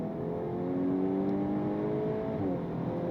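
A 2026 VW Golf R accelerates hard in race mode with its dual-clutch sport transmission, the engine note climbing steadily from inside the cabin until a brief shift near the end, with no voices.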